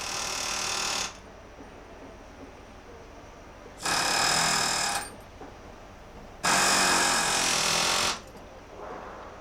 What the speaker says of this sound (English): A pneumatic chisel is used to take out the webs between the holes.